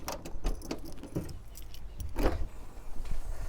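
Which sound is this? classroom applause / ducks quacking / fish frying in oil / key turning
key turning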